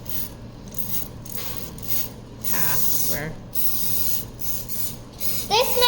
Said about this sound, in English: that looks like a lot of spray